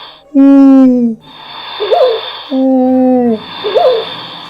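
A voice imitating owls hooting, giving two long, loud, gliding "ooh" calls separated by short breathy pauses, up close and alone.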